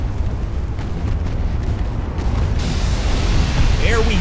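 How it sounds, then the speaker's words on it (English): An ammunition cache detonates aboard a warship in a naval battle game, a loud, heavy rumbling blast that swells and sustains as a deep roar. "That was absolutely an ammo cache detonation there."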